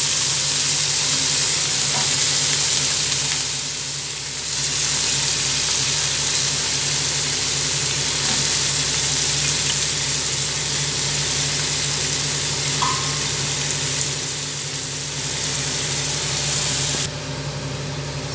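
Carrot and coconut poriyal sizzles steadily in a pan while being stirred, a continuous close frying hiss with faint scraping, no voices.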